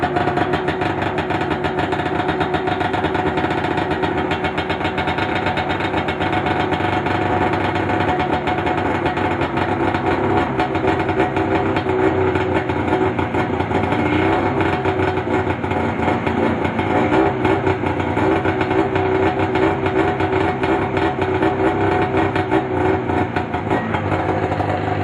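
A small engine, its choke lever broken, runs steadily after being choked and hand-started, holding an even, smooth idle throughout at a close, constant level with no talk.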